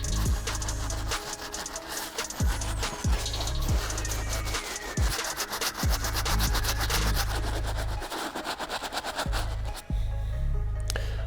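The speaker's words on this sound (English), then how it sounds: "hit the midsoles with the medium bristle brush" A medium bristle brush scrubs the midsole of a Yeezy 500 Salt sneaker, a steady close-up rasping broken by brief pauses and faint knocks, with no talking.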